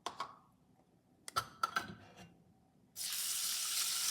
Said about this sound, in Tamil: இதை இப்போ தண்ணி விட்டு ஊற வைப்போம்.